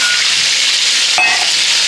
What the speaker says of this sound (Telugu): తీసుకొని బాగా వేయించుకోవాలి